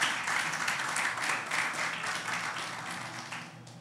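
A church congregation applauds during a sermon: dense, even clapping from many hands, soft and somewhat distant, holding steady before thinning out slightly near the end.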